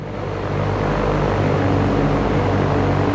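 The propeller engine of a Skyhawk airplane in the X-Plane 11 flight simulator drones loudly and steadily, a constant broadband roar with a low engine hum underneath.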